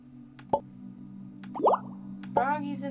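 Frogs drop into a pot of soup in Rusty Lake Paradise, a game. Three short, wet plops fall about a second apart over a low, steady hum, with a voice talking in between.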